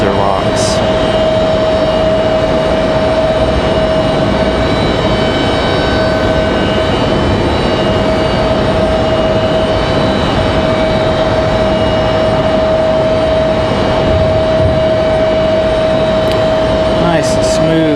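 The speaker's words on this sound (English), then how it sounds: "Nice smooth touchdown there for the A220." An Airbus A220-300 jet touches down at Raleigh-Durham airport with a loud, continuous engine rush and a steady high whine running throughout, while a voice talks over it.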